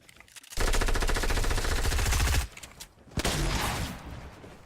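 Fortnite gunfire: a long rapid burst of automatic shots, loud and close, then a pause and a second shorter burst.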